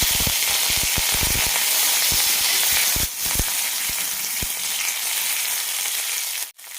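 Red chillies and curry leaves crackle and sizzle in hot coconut oil with popped mustard seeds, a steady close frying hiss broken by sharp spitting pops, easing slightly midway before a brief dip at the end.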